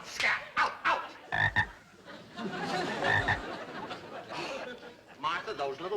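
Several frogs croak indoors in repeated throaty bursts, close and fairly loud, overlapping with chattering voices.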